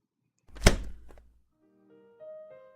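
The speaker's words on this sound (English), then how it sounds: "we're gonna shut the window now" A single solid thunk as something is shut, followed by a brief low rumble, then faint tonal background sounds.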